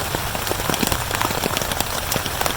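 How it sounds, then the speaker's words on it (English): Rain falls on a tent during a camping trip at Tucker Hill, a dense, steady patter broken by sharp individual drop hits, heard up close with no voices. "Nobody can hear in the rain"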